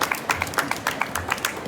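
Applause from an audience at a book-fair presentation honoring anthology contributors, a brief patter of scattered hand claps at moderate volume.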